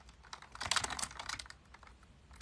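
Keyboard typing on a computer, a close run of quick irregular clicks that thickens into a dense burst in the middle before thinning out, with no voices.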